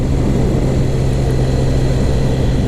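A Triumph Sprint GT 1050 motorcycle fitted with a Scorpion Serket exhaust idles or runs with a steady, deep, continuous drone, close and fairly loud but not harsh, with no one talking.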